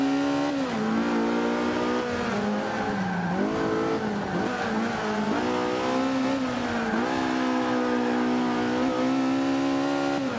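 A racing car engine in Forza Motorsport 5 at Spa revs hard and continuously, its loud droning pitch climbing and dropping through gear changes, with occasional tire squeal.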